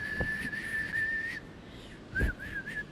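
A person who cannot whistle well attempts it: a thin, steady whistle holds one pitch for over a second, breaks off, then returns as short wavering bursts, with soft breathy noise underneath.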